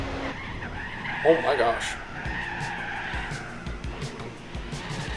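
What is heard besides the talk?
race car tires skidding in Gran Turismo 4 video game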